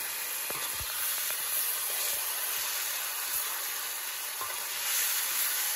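Potatoes stirred into a frying Bengali-style chicken curry give off a steady, close sizzle and hiss, with occasional soft scrapes and knocks from the stirring spoon, and no voices.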